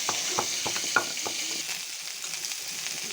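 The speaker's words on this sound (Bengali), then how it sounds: "চিকেনটা আমি ভেজে নিচ্ছি।" Chicken pieces fry in hot oil in a pan for a home-style chicken roast, a steady hissing sizzle broken by a few crisp pops and light stirring clicks, close and without talk.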